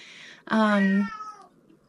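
A small cat gives one clear, loud, drawn-out meow that tails off, close by, with soft indistinct sound around it.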